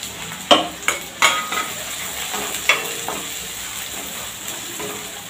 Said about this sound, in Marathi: इथे कांदे घेतले 2 चिरून. तर छान असं परतवून घ्यायचं